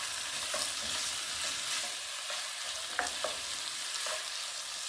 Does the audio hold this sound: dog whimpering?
no